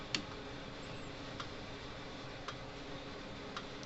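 A 1960s Montgomery Ward solid-state electric fence charger, fitted with a new capacitor, gives faint, sharp ticks at a slow, regular pace, about one per second, over a steady low electrical hum.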